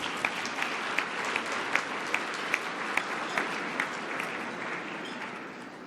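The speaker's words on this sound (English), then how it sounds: "can you give yourselves a beautiful round of applause" Sustained audience applause at a student testimonial event, a dense even wash of many hands clapping, with a few sharper claps standing out near the front and the applause tapering slightly toward the end.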